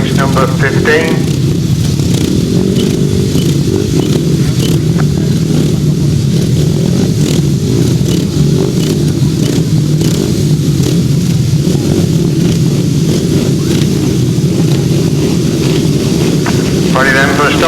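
Grasstrack racing motorcycles idle and rev together at the restart line of race 15, a steady loud broadband engine roar with bursts of throttle, crowd and wind noise mixed in throughout.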